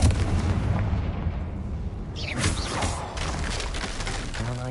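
Confringo explosion spell cast in Hogwarts Legacy, a fiery rumbling blast with crackling debris, loud and close, followed by lingering rumble and a few sharp pops.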